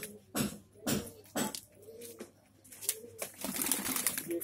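Indian Kasni pigeons of an old breed cooing up close, a series of deep rhythmic coos repeating about every half second, then a busier burst of softer calls and rustling.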